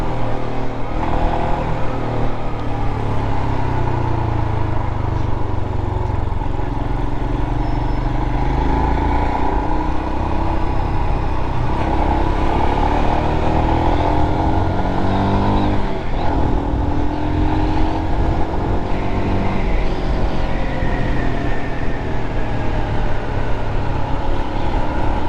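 A Royal Enfield Himalayan motorcycle on cross trail tyres rides continuously, its engine droning loud and steady with shifting pitch as it revs and eases, mixed with heavy wind roar and no talking.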